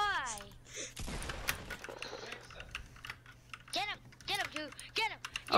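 Computer keyboard keys clack in quick bursts and clicks during a Fortnite session, with voices talking over and between the typing at moderate, close range.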